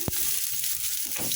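Chopped onions sizzle in a hot pan with a brief scrape of stirring at the start, a steady close frying hiss throughout the short moment, with no talk.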